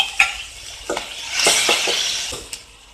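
Curry leaves and green chillies, with onion and tomato, hit hot oil for a drumstick-leaf dal kulambu, producing a soft sizzle as a utensil stirs and clinks against the pan a few times.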